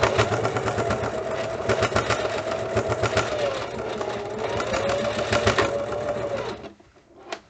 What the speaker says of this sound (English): And then you just sew it in.